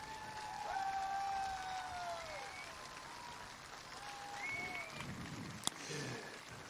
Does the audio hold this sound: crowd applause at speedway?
yes